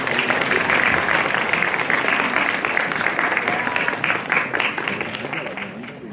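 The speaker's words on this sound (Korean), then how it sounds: "큰 박수를 부탁드리겠습니다" A crowd at a high school graduation ceremony gives the graduates a big round of sustained applause, loud and dense throughout and tapering slightly toward the end, with voices murmuring underneath.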